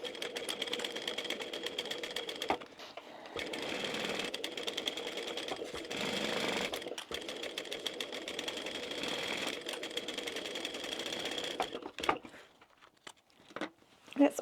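A domestic sewing machine bastes lining fabric together for a small crossbody wristlet bag, running in long steady whirring stretches with brief pauses and a stop near the end.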